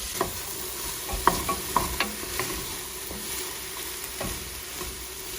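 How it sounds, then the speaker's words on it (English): Carrots, onions and celery soften over gentle heat in a soup pot for chicken noodle soup, giving a quiet, steady low sizzle broken by a few soft clicks and taps of stirring. "we have our carrots, onions, and celery in here, sweating away"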